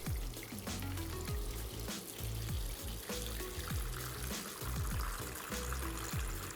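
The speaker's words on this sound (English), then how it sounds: "Now I'm gonna start the timer and start filling up the water." Water pouring into a container for a phone water test: a steady, close trickling and splashing stream that runs continuously with small gurgling bursts, fairly faint overall and with no talking.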